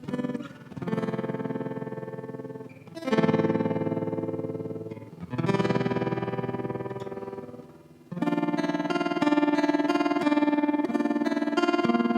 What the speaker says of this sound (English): get almost into kind of ring mod sounds if you push the rate right up